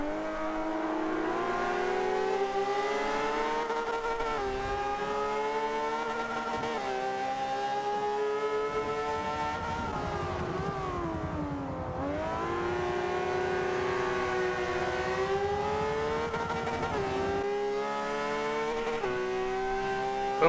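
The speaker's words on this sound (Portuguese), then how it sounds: "vai curtindo o som do motor aí, que o som da Ferrari é sensacional" A Ferrari F50 race car engine in Forza Motorsport 5 roaring at high revs, pitch climbing through gears, briefly dropping, then surging again, loud and continuous with no talking.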